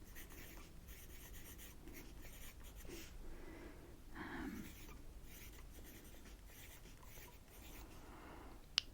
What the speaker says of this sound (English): this pencil sounds odd.